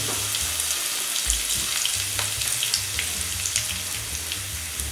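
Cumin seeds, bay leaf and curry leaves crackle in hot oil for a green peas masala, producing a dense, close sizzle with sharp popping bursts and a bubbling low rumble.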